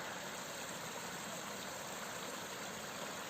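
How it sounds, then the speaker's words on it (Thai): Small waterfall and flowing stream water in a forest, heard as a steady, even rush of water that stays constant and fairly soft throughout, with no voices. "นี่ก็จะเป็น น้ำไหลเล็ก ๆ น้ำตก น้ำตกน้อย ๆ"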